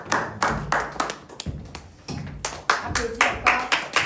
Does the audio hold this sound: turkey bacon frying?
no